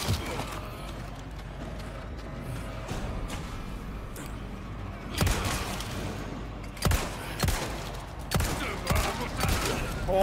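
Gunfire in the Resident Evil 4 Remake, a steady run of shots over a dense rumbling game mix, with several sharp louder bursts standing out near the end and no voice heard.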